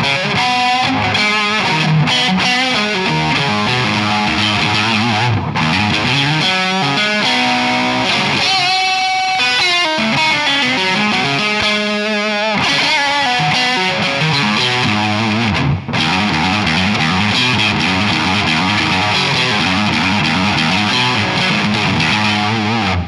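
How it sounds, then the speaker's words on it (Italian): A homemade electric guitar built from a kit with a cheap Chinese pickup, played through a distortion effect: continuous loud distorted chords and riffs with sustained, gritty tone throughout. "se io metto un distorsione carino"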